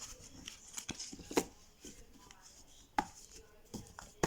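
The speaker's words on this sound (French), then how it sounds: "On va mélanger ces cartes et en tirer une" Tarot cards being shuffled by hand, heard as a string of crisp, close snaps and flutters with a few sharper riffles, quiet and without talk.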